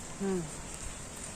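Steady rain hisses continuously, with a brief low voice-like hum near the start.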